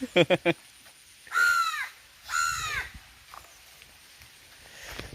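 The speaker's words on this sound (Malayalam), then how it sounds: "ഒരു കാക്ക കിടന്ന് കണ്ടോ" A crow caws twice, loud and harsh, each call about half a second long, after a few sharp clicks at the start.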